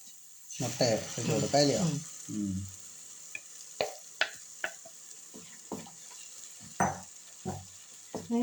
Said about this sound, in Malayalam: ഇനി നമുക്ക് അടിച്ചു വെച്ചേക്കുന്ന മുട്ട അതിലേക്ക് ഒഴിച്ചു കൊടുക്കാം